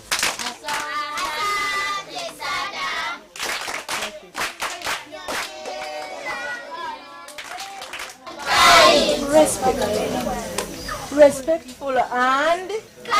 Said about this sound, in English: Can you give them a hand clap?